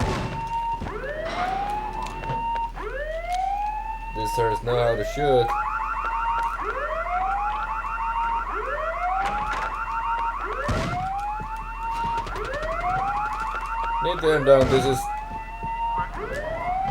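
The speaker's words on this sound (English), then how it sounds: "Something will always trigger the alarm no matter what." A cycling alarm siren from the PS1 game Rainbow Six, rising and holding in repeated whoops about every second and a half, with occasional gunfire bursts, continuing under someone speaking.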